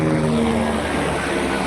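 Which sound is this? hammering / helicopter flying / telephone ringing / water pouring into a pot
helicopter flying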